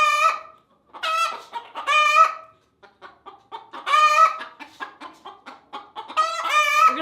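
Hens in a heated chicken coop built for a harsh Alaskan winter cluck and squawk in several loud, close bursts, with short quiet gaps between the calls.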